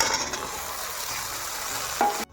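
Okra sizzles steadily in a hot spiced kadai while being stirred, with a brief clink of metal utensil near the end before it cuts off.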